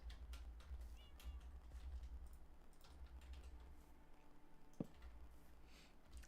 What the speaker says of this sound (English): every time I hear the little mews.